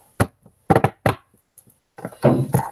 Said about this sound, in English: Knocking the energy out of my hands.